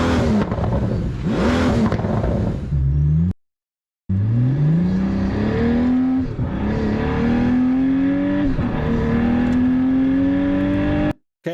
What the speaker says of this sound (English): This is what the car sounds like from outside.